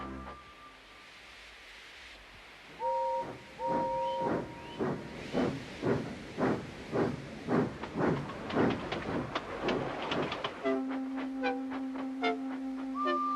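A steam locomotive chuffs in a steady rhythm of hissing bursts, with short whistle tones at the start and a sustained whistle near the end.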